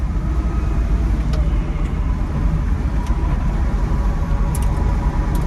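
Retrofitted Porsche 912 on the move, a steady low hum of drivetrain and road noise heard from inside the car, fairly even and moderately loud with faint clicks.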